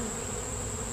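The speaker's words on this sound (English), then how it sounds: "And then I let the flying bees come out." Honey bees buzzing steadily after being shaken from a frame into a tub, a dense continuous hum heard close up with no voices.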